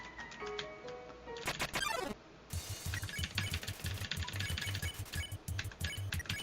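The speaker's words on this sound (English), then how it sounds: "The beautiful sound of key mashing." Keys mashed on a mechanical keyboard during an Undertale speedrun, giving a fast, dense run of sharp clicks and clacks up close, with a brief rising game tone partway through.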